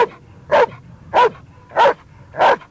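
A dog barks four times at an even pace during protection trial helper work, each bark loud and close, with near silence between them.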